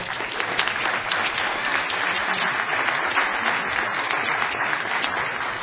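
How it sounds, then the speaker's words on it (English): Steady applause from an audience at a United Nations panel hearing in Chicago, many hands clapping in a continuous, even wash that does not let up. "I say everybody give them a round of applause."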